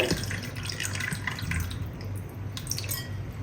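Tamarind water is poured into a fish curry of sardines, a faint, close liquid trickle with small drips and splashes continuing throughout.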